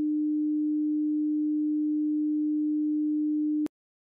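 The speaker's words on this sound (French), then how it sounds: "premier son à 300 Hz." A steady, pure 300 Hz sine tone holds unchanged for several seconds, then cuts off abruptly with a faint click, leaving silence.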